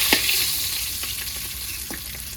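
Pond fish pieces fry hard and crisp in hot oil, giving a steady close sizzle with a few sharp spatters and stirring scrapes, without talk.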